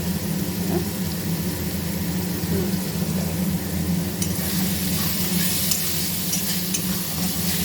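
Onions and spices frying in a pan for mutton curry make a steady close sizzle, with occasional scraping stirs and faint clinks running through, and no one talks.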